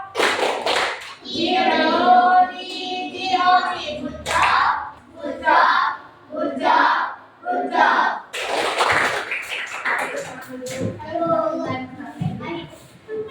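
Children do tepuk gojok, a patterned rhythmic group clap, in a classroom, with sharp hand claps in quick bursts alongside children's voices and adult talk.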